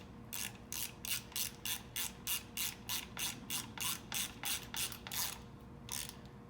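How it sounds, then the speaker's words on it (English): Ratchet-style torque wrench tightening bolts on a Mud Buddy outboard motor, giving about eighteen quick, evenly spaced clicks in a steady rhythm, close and clear over a low background hum. "get yourself a torque wrench and tighten these things down to about 35 foot-pounds"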